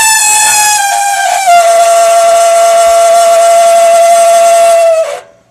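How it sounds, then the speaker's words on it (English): A Harman P43 pellet stove emits a loud, piercing, continuous whistle-like squeal with a steady pitch. It holds for about five seconds, then fades out quickly. "when the stove is on, the squeal is now constant"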